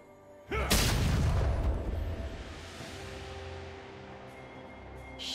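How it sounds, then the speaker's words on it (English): A turret being destroyed in League of Legends: one loud, booming explosion hits suddenly, then a long rumbling tail fades slowly under game ambience, with a faint chime near the end. "Red Team's turret has been destroyed."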